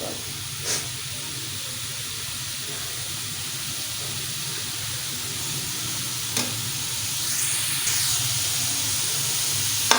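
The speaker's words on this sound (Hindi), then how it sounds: "फ्राई कर लें। डीप फ्राई नहीं करने, बस ऐसे।" Round gourd (tinda) pieces shallow frying in oil in a pan, a steady soft sizzle and hiss throughout, with a couple of faint clinks or scrapes and no talk.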